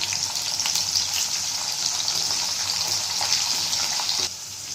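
Green chillies, garlic cloves and a pinch of asafoetida fry in oil for gongura curry, a loud, steady close-up sizzle with small crackles that eases slightly near the end.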